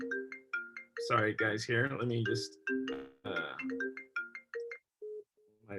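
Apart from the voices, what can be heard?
mobile phone ringtone ringing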